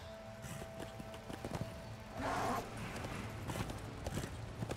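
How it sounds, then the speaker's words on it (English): Horse hooves clip-clop at a running pace in the action game Darksiders 2, with a brief burst of louder movement midway and no talk over it. "Horse!"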